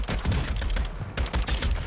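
Rapid gunfire in a video game firefight, a dense burst of repeated close shots with a brief lull partway through before the shooting resumes.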